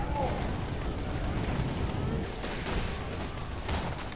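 Gunfire in Borderlands 2 co-op play, a steady loud roar of repeated shots and rumbling blasts that carries on without pause, with voices faintly present underneath.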